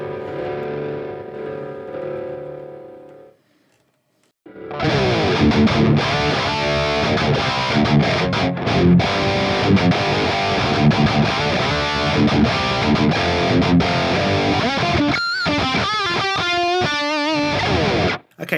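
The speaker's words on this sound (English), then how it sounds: "I want to boost this with something crunchy. I'm going to go for the yellow drive" Electric guitar played through a crunchy yellow overdrive on a Hotone Ampero II Stomp: a short clean phrase, a brief silence, then loud, sustained distorted chords and riffs that end in quick picked notes.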